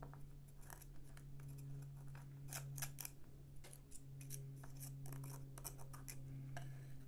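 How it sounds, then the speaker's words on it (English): A tool cuts and scrapes charred areas away from a stone casting made in Delft clay. The crisp snips and scratches come in quick bursts, quiet and close. "now I can just cut the charred areas away from my casting"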